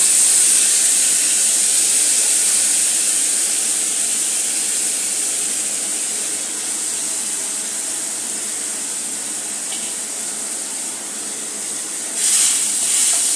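Soaked moong dal sautés with spices on a low flame, producing a steady high hiss that lasts throughout, with a slight rise near the end and no talking.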